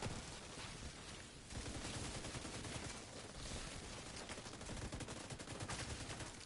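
Dense, rapid gunfire from the shooter game The Division 2, with continuous overlapping automatic bursts and shots that stay loud and busy throughout, with no voices over them.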